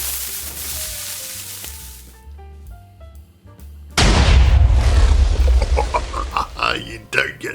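Electronic game tones from Minecraft play for a few seconds, then a sudden heavy blast from a giant TNT cannon erupts into a roaring string of rumbling explosions that keep crashing and rolling.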